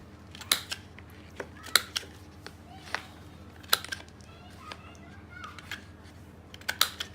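Paper being trimmed with scissors for a photo album, a series of sharp separate snips at irregular intervals, close and crisp over a quiet room.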